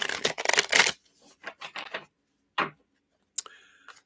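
Cards being shuffled for a twin flame tarot reading, a burst of dense riffling at the start followed by a few short shuffles and taps, close and fairly quiet with no talking.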